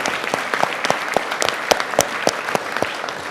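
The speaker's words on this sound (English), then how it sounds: "I just want to give a quick round of applause to our amazing panelists, to David coming up on stage." An audience at a sales panel event claps for the panelists, a moderate round of applause with sharp, evenly scattered claps throughout.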